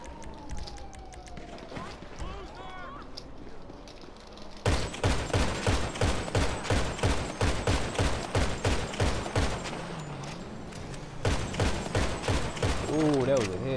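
Rapid bursts of video-game gunfire from GTA, long runs of loud repeated shots with brief pauses between volleys, quieter scattered sounds at first, with voices talking over the action.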